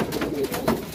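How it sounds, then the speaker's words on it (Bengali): Black Chila fancy pigeon cooing in a loft, a short, close, soft throaty coo lasting about a second with no other sounds. "এই কালো চিলো খুব ভালো একটা পায়রা"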